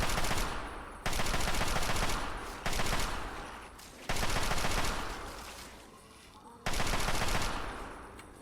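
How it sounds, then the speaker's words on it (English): Loud automatic gunfire in Fallout 3 as a radscorpion is shot up, arriving in several long, dense bursts separated by short breaks, close and harsh with no talking. "The rat scorpion I'm going to shoot up"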